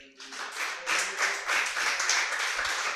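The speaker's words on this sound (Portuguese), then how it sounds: "Você pode aplaudir o Senhor?" A church congregation breaks into applause during a sermon, building from a faint start into dense, sustained clapping from many hands that carries on steadily at moderate loudness.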